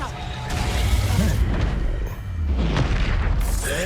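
A booming blast from the Reducto spell in the video game Hogwarts Legacy rumbles loudly and continuously, with shouted spell-casting over it.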